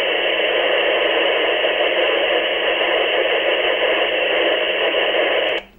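A Yaesu FT-65 handheld radio receiver hisses with steady, loud broadband static while it waits on a repeater carrier, then cuts off abruptly at the end.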